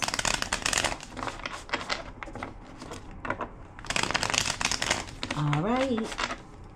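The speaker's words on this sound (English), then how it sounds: "Two more shuffles." Tarot cards are shuffled in quick riffling bursts, close and crisp, separated by short pauses, with a brief voiced sound near the end.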